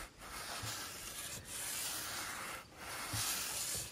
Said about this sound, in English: I wanna make sure that all these little raised areas are all sanded